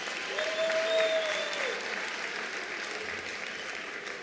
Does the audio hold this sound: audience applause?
yes